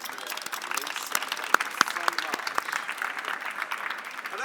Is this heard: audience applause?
yes